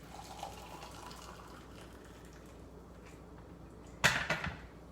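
Boiled water being poured for cinnamon apple spice tea, a soft liquid trickle under faint background noise, then a short louder splash and clatter near the end.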